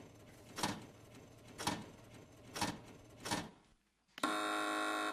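A quiz show buzzer on a comedy panel show: four short rhythmic pulses, then a sudden loud sustained electronic buzz at the end.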